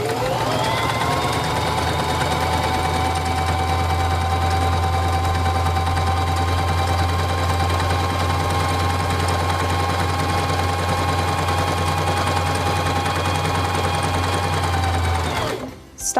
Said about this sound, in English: Now to sew the feather stitch, place the fabric under the presser foot, lower the presser foot,